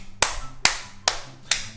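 Four sharp hand claps ring out at a slow, steady pace, each one crisp and close to the listener, with no talking in between.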